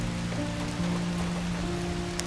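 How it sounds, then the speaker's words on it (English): Steady rain falls on a surface, a dense even patter close by that holds without pause for a couple of seconds, with a faint low tonal hum beneath it. "Let the rain calm your thoughts and wash away the noise of the day."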